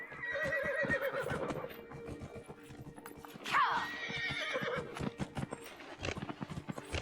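Horse hooves clip-clopping at a run in Dragon Age: Inquisition, rapid close thuds with a loud neigh midway, under quiet game music.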